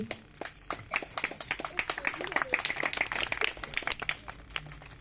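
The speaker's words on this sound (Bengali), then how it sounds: "করতালি দিয়ে অভিবাদন জানানোর জন্য অনুরোধ করছি" Audience applause at an outdoor drawing competition event, a dense patter of many hands clapping steadily for about five seconds at moderate loudness, with a faint murmur of voices underneath.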